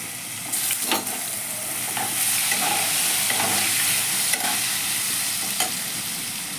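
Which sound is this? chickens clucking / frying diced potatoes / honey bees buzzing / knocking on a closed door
frying diced potatoes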